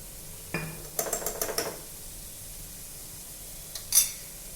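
Soy sauce being stirred into frankie filling in a pan: a single soft knock, then a quick run of metallic spoon-against-pan scrapes and clinks, and one more brief clatter moments later, all fairly quiet with no talking.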